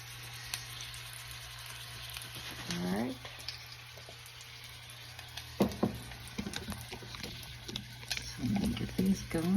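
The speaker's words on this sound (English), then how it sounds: "Oh, the pan's sizzling nicely." Hamburger steak patties sizzle in a hot frying pan with a soft, steady crackle, broken by a few louder spits and handling noises while a person talks now and then.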